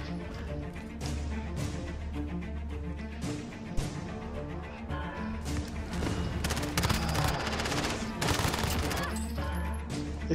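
Dense bursts of automatic gunfire and explosive shots rattle through a Call of Duty Modern Warfare Warzone match, loud and near-continuous, with faint voices underneath.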